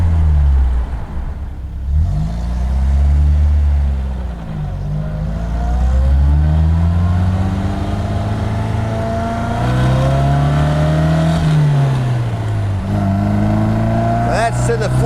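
A 1952 MG TD right-hand-drive export roadster accelerates at full throttle, its engine note rising and falling through the gears, loud and close, with a person talking over it.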